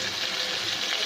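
Vinegar hits a hot pan of cooking chicken macaroni and sizzles, a close, steady, loud hiss of frying that fills the whole moment with no voices.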